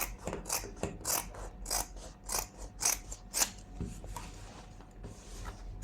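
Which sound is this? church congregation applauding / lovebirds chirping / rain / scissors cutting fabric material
scissors cutting fabric material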